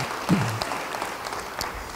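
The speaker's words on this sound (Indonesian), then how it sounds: "Yang percaya, beri tepuk tangan yang baik bagi dia." Church congregation applause during a sermon, a dense steady round of clapping from many hands that stays even and fairly loud throughout the short stretch.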